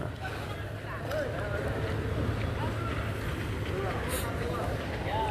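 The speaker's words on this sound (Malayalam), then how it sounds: "അതാ വേറൊരു ബോട്ട് വന്നുകൊണ്ടിരിക്കുന്നു, വലിയ ബോട്ട് തന്നെ." Low rumble of a large boat approaching on water, mixed with wind buffeting the microphone and people talking.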